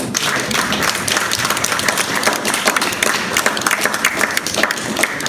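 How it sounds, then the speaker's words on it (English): A crowd at a Trinity County Collaborative meeting claps steadily for several seconds, a dense, close round of applause with no voices. "we maybe owe him a round of applause"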